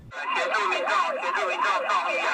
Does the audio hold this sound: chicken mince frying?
no